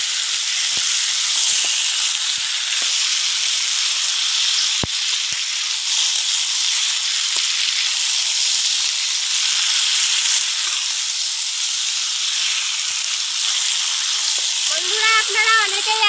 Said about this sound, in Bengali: এবার ভালো করে নেড়ে চেড়ে মাংসটা কষিয়ে নেব।